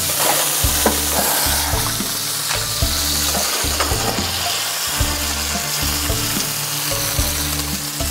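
Hen of the wood mushroom frying in a hot pan gives a loud, steady sizzle with repeated low scraping and pressing thumps as it is flattened and stirred.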